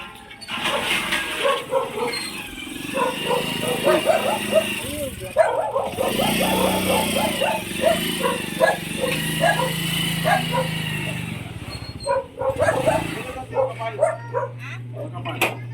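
A dog barks in quick, repeated bursts close by at a home, with a voice talking over and between the barks, then the barking fades near the end.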